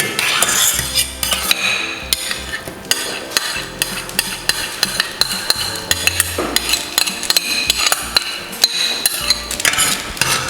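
Onions being stirred in a frying pan for Ankara tava, with steady metallic scraping and clattering of a utensil against the pan, close and busy throughout, with no talk.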